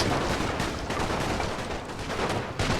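Massed musket and cannon fire in a Napoleon: Total War battle, a dense continuous rumble of overlapping shots and booms, loud and unbroken throughout.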